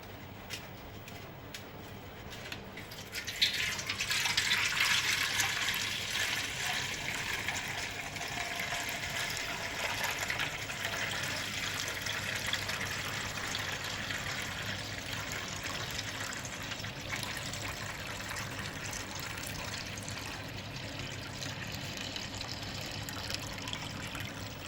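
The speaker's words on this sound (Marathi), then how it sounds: "एकदम हळूहळू काढायचे आपल्याला हे पाणी" Clear water is slowly poured off from a container, a steady trickling and splashing flow that starts after a few seconds and continues evenly, close by, with no voices.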